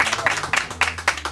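Brief burst of studio audience applause on an Italian TV show, dense overlapping claps at close range for just over a second.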